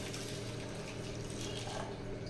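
Half a tumbler of water pours into a masala of dried red chillies, cumin, pepper, fennel and garlic for a soya pepper semi-gravy, making a continuous, close, gentle splashing trickle with no speech over it.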